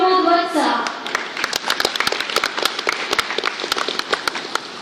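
An audience at an association event breaks into applause for the secretary, a brief voice at the start giving way to a few seconds of scattered, moderately loud clapping from a modest crowd.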